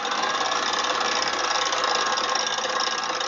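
The auxiliary engine of the sailboat SV Wakawaka motors along in almost no wind, a steady mid-pitched chugging drone heard close and unbroken throughout.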